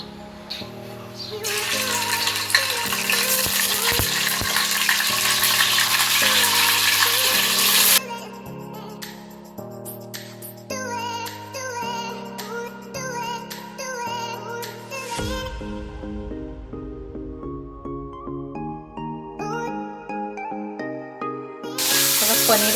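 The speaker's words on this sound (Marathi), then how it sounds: "आता आपण पनीर फ्राय करून घेऊया." Paneer frying in a little oil in a kadhai, a broad steady sizzle for the first several seconds, then fading under music that carries through the rest.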